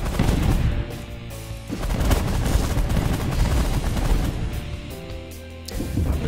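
Ships auto-firing weapons in the space strategy game The Last Federation, dense continuous rattling gunfire and blasts layered over droning electronic game sound, loud and unbroken.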